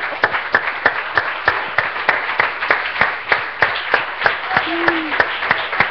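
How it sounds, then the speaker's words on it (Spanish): Steady rhythmic clapping from a crowd, sharp regular beats over a continuous wash of applause, with a brief voice rising near the end. "démosle un aplauso"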